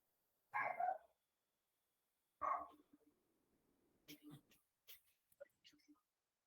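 A dog barks twice in sharp, separate bursts some distance away indoors, followed by faint talking and soft scattered noises in a quiet room.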